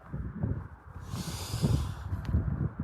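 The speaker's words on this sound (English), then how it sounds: "Take some deep breaths" Slow, deep breaths drawn in and blown out, a noisy hiss of exhaled air swelling in the middle, close and fairly quiet with low rumbling underneath.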